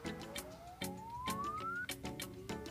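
Test sound played through a Samsung phone's earpiece receiver: a thin electronic tone sweeping steadily upward, cut by repeated sharp beeping pulses at roughly even intervals, fairly quiet and alone.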